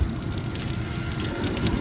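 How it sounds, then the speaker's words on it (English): Dirty water gushing steadily from an air conditioner's condensate drain, a loud, continuous rushing splash with no pauses. "The water is coming out of that condensate drain"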